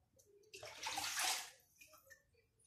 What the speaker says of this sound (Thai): เดี๋ยวล้างครกนี่หน่อย